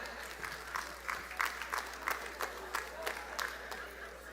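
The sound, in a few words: audience applause at commencement ceremony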